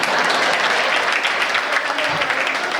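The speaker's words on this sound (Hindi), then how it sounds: "आप अगर चाहें तो अपने सम्मान में ताली बजा सकते हैं।" An audience applauds for a few seconds, a dense and loud wash of clapping from a crowd at a live comedy and music event. It carries steadily from start to finish.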